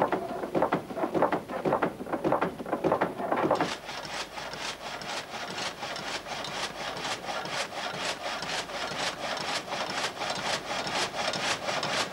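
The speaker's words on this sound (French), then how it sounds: "cet excentrique actionne le cadre de la scie en lui imprimant un mouvement de va-et-vient" A water-powered frame saw in a Vaud sawmill rasps through wood in fast, even back-and-forth strokes, a loud mechanical rhythm that speeds up and grows brighter partway through.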